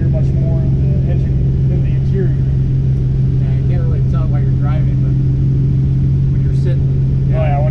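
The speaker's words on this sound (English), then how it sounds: "if you want to have an even more aggressive exhaust note, I mean, as that opens up right now" A 1966 Chevy II SS show car's dual-quad 327 V8 with electric exhaust cutouts open, a deep steady drone heard from inside while driving, loud and constant beneath people talking.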